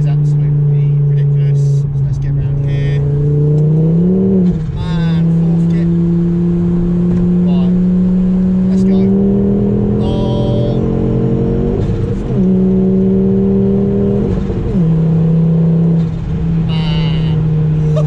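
A 400 bhp Ford Focus ST with an X37 turbo accelerating hard through the gears in fourth, its engine note climbing loud and close with brief dips at shifts, and someone talking over it.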